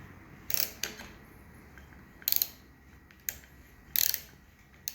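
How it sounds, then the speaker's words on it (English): An angle wrench tightening a fastener on a BMW R69S motorcycle during a rebuild, with several short bright ratcheting clicks in separate bursts, close and fairly crisp over a quiet background. "But with this angle wrench, somehow tighten it."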